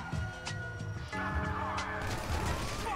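Gunfire in the video game GTA V during an ambush, with several sharp shots and bursts scattered over steady, dense game noise at fairly close range.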